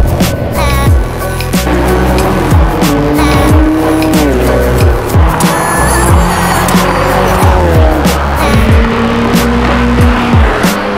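A Lotus Exige S with a supercharged 2-litre engine laps a race track, its engine rising and falling loudly through gear changes while the tyres squeal in the corners, close and continuous throughout.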